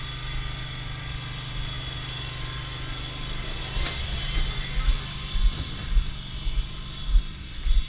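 A Husqvarna riding mower engine hums steadily as a learner rider accelerates on level ground, a low constant drone that swells slightly toward the end, with a voice briefly speaking over it.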